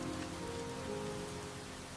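Rain falls outside in a steady, continuous wash of noise, like a soaking downpour drumming on surfaces, with no voices over it.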